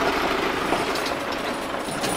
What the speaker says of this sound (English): we literally have a tractor coming at us here